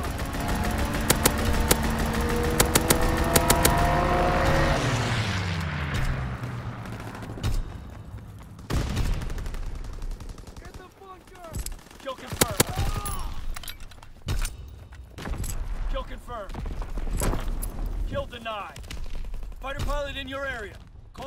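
Gunfire and a fighter aircraft's strafing run in Call of Duty WWII, with a loud sustained engine drone and rapid bursts early on, then scattered sharp shots and impacts, with game voice callouts in between.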